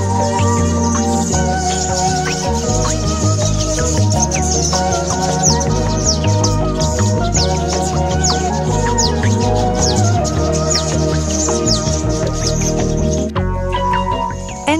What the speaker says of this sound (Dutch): Een foyer vol met vogeltjes.